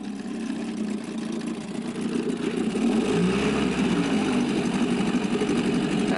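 An Evinrude 3 hp outboard motor, running a little rough and smoking after carburetor and fuel line repair, idles with a steady close buzzing drone that rises slightly in pitch and loudness partway through.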